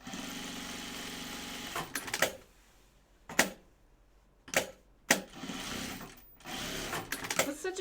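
Sewing machine stitching pajama bottom pieces together along the sides and top, running in several short bursts of whirring mechanical rattle separated by quiet pauses, close and fairly loud.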